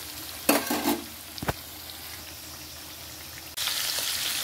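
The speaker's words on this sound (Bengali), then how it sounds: "তাই কুমড়োটা একটু ভেজে নিই, তারপরে মাছ ভাজবো" Pumpkin pieces sizzle in hot oil with stirring and clattering near the start, then the frying hiss settles low before swelling louder again.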